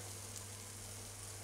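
Egg pasta with schinken frying in a pan gives a steady, close, even sizzle with a faint low hum beneath, with no talk over it.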